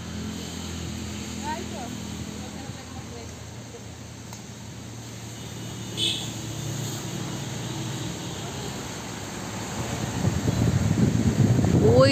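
Wind blows outdoors around a mango-laden tree, a soft steady rush that grows into heavier gusting buffets near the end, with people talking over it.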